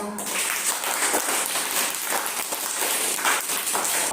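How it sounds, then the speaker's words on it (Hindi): Children clapping their hands together in a classroom activity, a steady, dense patter of many small hands lasting the whole stretch, fairly loud with no talking. "एक बार अपने लिए ताली बजाओ।"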